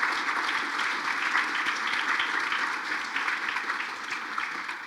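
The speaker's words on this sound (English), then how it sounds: "Let's give them a round of applause." An audience at a hall of fame gala applauds steadily, a dense wash of clapping held at an even level for about five seconds before easing slightly.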